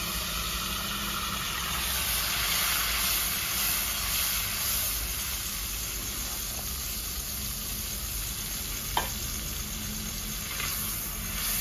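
Tomato paste frying in a pan with whole spices, green and black cardamom, cloves and bay leaves, a constant loud sizzle with a brief clink, no talking.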